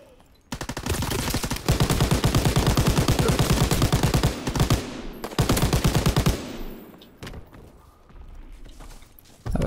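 Mounted turret machine gun in Call of Duty: WW2 firing long rapid bursts, loud and close, with short pauses between streams of shots before the fire tails off and one more burst starts.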